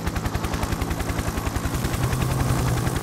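A cannon fires in the video game Happy Wheels as a rapid, loud volley of regular thumping bursts, evenly spaced and sustained without pause, with no voice over it.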